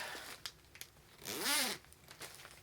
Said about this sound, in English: zip up.